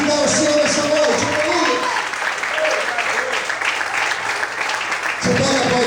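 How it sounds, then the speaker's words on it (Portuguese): A church congregation applauds during an evening service, a thick, sustained patter of many hands that runs throughout, with a voice rising briefly over part of it. "Você pode aplaudir o Senhor?"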